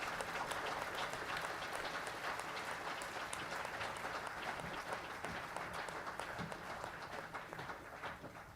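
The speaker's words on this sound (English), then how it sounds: "A round of applause for you." Sustained applause from an audience at the inauguration of an offshore renewable hydrogen production platform, with dense, steady clapping that is fairly quiet and distant and tapers slightly toward the end.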